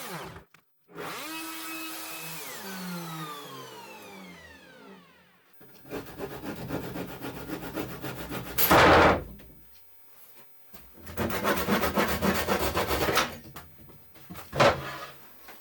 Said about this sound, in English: it's just the easiest way to saw some slots here